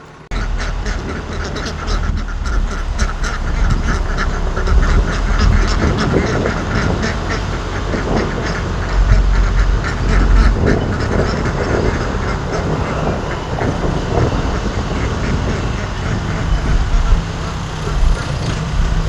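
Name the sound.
birds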